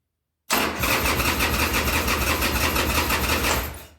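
A 2000 Harley-Davidson Sportster 1200C cranking on choke after years unused: a loud, dense, near starter-and-engine churn that holds steady for about three seconds, then fades out.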